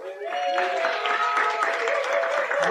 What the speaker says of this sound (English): Give you everybody a round of applause real quick.